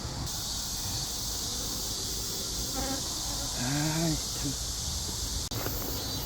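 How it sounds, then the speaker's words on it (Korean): A steady high insect buzz of hornets flying around native honeybee hives fills the background, with a brief louder drone passing close midway. "말벌이 이렇게 나르고 있습니다"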